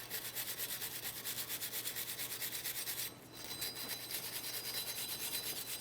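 Steady, rhythmic scraping of a wire brush scrubbing a Subaru Outback's front wheel hub during a brake replacement, close and continuous, with a brief pause partway through before the brushing resumes.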